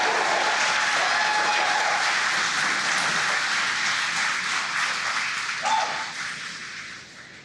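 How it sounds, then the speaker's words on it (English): A large crowd cheers and applauds continuously in a roaring wash of noise after a successful GPS III rocket launch stage separation, gradually fading toward the end. "as you can hear the cheering in the background"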